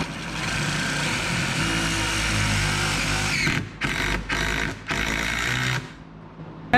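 A power driver runs steadily to drive lag bolts into an attic ladder frame in a pole barn house, then gives several short bursts and stops, loud and close with no talking.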